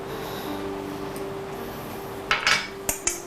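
Light metallic taps on a buttered cake tin being dusted with flour, a few quick knocks clustered near the end after a quiet stretch with a faint steady hum behind.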